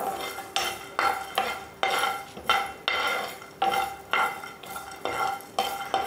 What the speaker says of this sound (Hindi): ये साबुत धनिया, ये भी 2 चम्मच ही लिया है। और इसको अच्छे से भून लेंगे पहले।